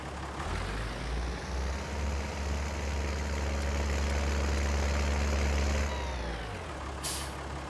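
A tractor engine in the farming video game Landwirtschafts-Simulator 19 (LS19) starts and idles, a loud continuous low diesel rumble with a brief hiss near the end.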